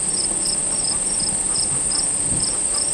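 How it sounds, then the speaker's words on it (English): Crickets chirp in the trees, a continuous high, rhythmic pulsing that repeats steadily at moderate volume over faint background hiss, with no voices. "Yeah, it sounds sort of like it might be crickets."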